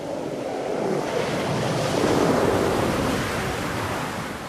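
Ocean surf rolls in at a sea lion colony beach, a steady loud wash of breaking waves with wind rushing across the microphone throughout.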